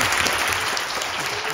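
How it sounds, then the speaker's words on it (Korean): Dense, steady applause from an audience welcoming a lecturer at a mathematics conference talk, sustained and loud throughout without pause. "그럼 박형주 교수님을 박수로 환영해 주십시오."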